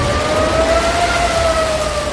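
Air raid sirens wail loud and continuous over Israeli cities during an Iranian ballistic missile attack, with steady sustained tones and no pauses.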